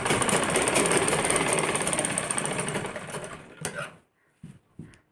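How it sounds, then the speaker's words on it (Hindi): A sewing machine stitches a kurti collar seam in a fast, continuous mechanical whir for about three seconds, then slows and stops, followed by a few short separate bursts of stitching. "यहाँ से फिर इस तरह से ही एक पैर की सिलाई मार देंगे"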